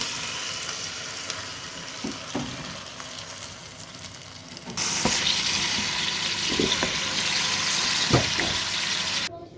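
Caramel is poured into braised pork, setting off a soft sizzle that jumps to a louder, steady hiss partway through, with occasional clinks and stirring sounds close by.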